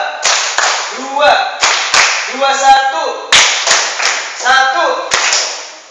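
Students at a TPA Quran-school training session clap twice overhead in unison, crisp group claps recurring between loud chanted voices, close and energetic.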